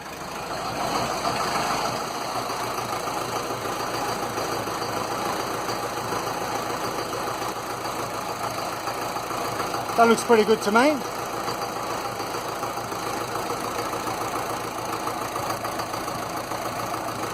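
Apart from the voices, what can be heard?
Land Rover diesel engine idling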